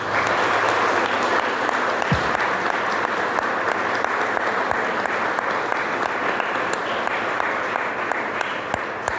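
Sustained applause from an audience at a talk in Guadalajara, a steady dense wash of clapping that holds evenly throughout with no voices above it.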